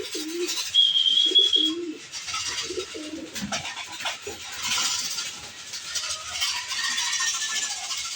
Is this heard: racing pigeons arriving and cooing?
yes